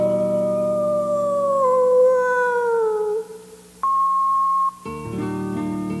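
A human voice imitates a coyote howling at the moon: a long, wavering, gradually falling howl, followed by a brief steady tone and a few seconds of music.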